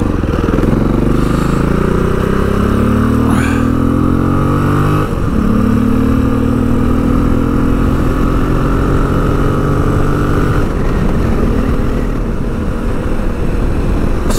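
Motorcycle engine heard while riding, a steady loud drone with shifting pitch as it accelerates and changes gear, plus rushing wind, continuous throughout with no talk.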